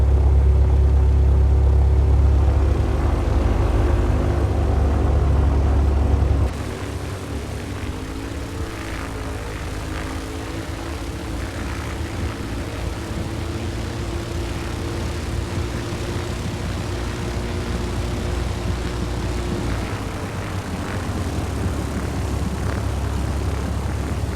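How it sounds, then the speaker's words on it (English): A propeller airplane's engine runs steadily while the aircraft taxis across a runway, a loud, constant droning hum with a slight drop in level after the first few seconds, and no talking. "release the brakes and turn right onto taxiway Alpha"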